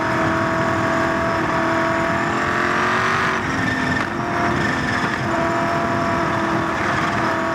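USAC Silver Crown race car engine heard onboard at Indianapolis Raceway Park in 1997, a loud sustained high-pitched whine with gear and pitch shifts around the middle, steady and close throughout.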